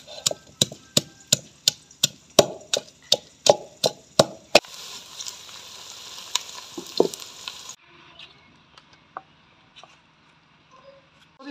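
Rhythmic sharp knocks give way to a steady sizzle of onions frying in a pan, with occasional clatters, then a quieter crackle.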